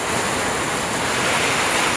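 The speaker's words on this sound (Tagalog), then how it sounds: "Malakas ang hangin, tapos ang lakas ng ulan." Steady, loud roar of strong wind with dense rushing noise of heavy rain during a thunderstorm, continuous and unbroken throughout.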